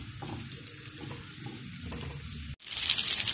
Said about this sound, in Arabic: البصله اهي خلاص دخلت على تحميره اهي